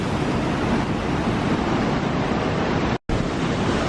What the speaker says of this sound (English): This close to the waterfall.